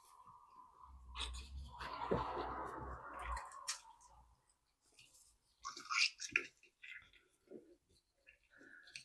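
Wet squelching and squishing as raw pork shoulder is pressed down into a jar, with rustling and sticky smacks, fairly close and uneven.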